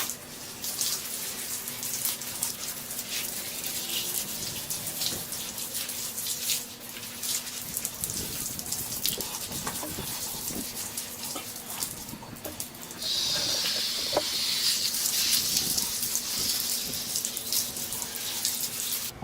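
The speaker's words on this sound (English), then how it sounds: "you saw me clean it with water and a little scrubbing sponge" Water from a hose or tap running over the frame of a Chevy S10 truck during cleaning, a continuous hissing splash with shifting spray intensity and occasional scrubbing knocks, growing louder and brighter near the end.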